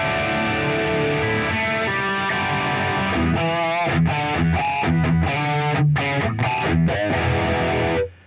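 Electric guitar played through a rig layering delay, reverb and chorus, sustained chords swelling into rhythmic choppy strums with shimmering repeats and washy tails, loud and alone before cutting off at the end.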